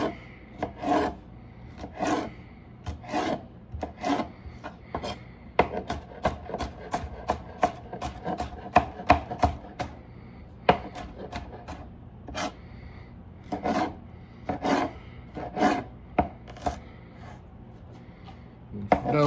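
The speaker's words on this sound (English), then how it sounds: "Notice I like to cut everything from the inside out." Knife chopping vegetables for pico de gallo on a wooden board, a long run of close, crisp cuts, sometimes in quick bursts and sometimes spaced out, with no talking.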